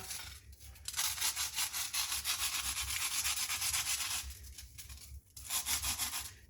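Crisp rustling and crunching of dry fried bread and potato snacks being handled, in bursts with brief pauses, close and moderately quiet, no voices.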